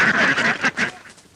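Ducks quacking close by in a short run of several nasal calls, loud at first and then fading, with no talk over them.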